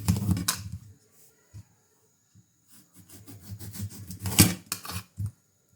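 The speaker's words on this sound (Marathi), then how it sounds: "आपण कापून घेऊया दोन्ही बाजूनी साईडने कापायचं आहे" Knife slicing through a red dragon fruit in a home kitchen, a few scraping, rubbing cuts with short pauses between, close and fairly loud, no voices.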